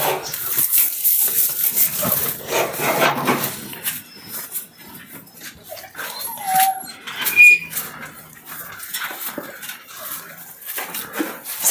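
A farm dog at a rural household in Satara district whines and whimpers in short, uneven bursts, with clinking of pots and dishes close by.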